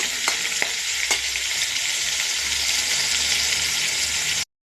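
Steady, loud sizzling of food frying in leftover hot oil in a wok, a dense hiss that runs unbroken for several seconds, with a few faint clinks, then stops abruptly.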